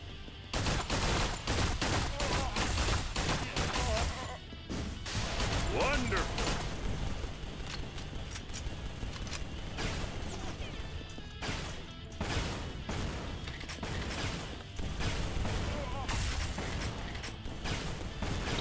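Rapid gunfire from the online shooter GunZ 2 rattles almost nonstop in loud bursts and fusillades, mixed with crashes and game effects, under a player's talk.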